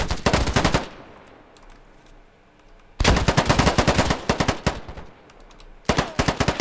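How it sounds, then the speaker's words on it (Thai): Rapid automatic gunfire from a free FPS video game comes in three loud, close bursts separated by short quiet gaps, the middle burst the longest. "โอ้จะบอกว่ายิงโหดยันฐาน"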